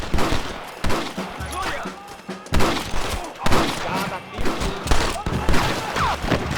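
Rapid gunfire in a shootout from the video game Red Dead Redemption, with loud, close bursts of shots and thuds coming in dense clusters, while shouting voices are mixed in among the shooting.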